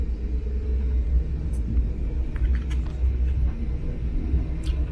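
A Brightline passenger train begins rolling out of the station on a Fort Lauderdale to Miami run, heard from inside the coach as a steady low rumble with faint squeaks and clicks.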